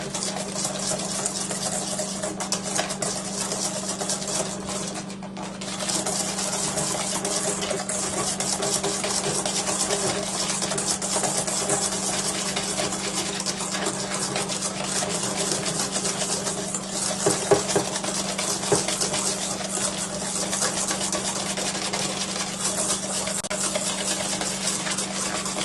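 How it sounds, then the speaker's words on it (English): An electric mixer beats a vanilla bean ice cream base on low speed, producing a long, steady motor hum with faint whisking and splashing that briefly dips once, and no talking. "You can use a beater on low, an electric mixer,"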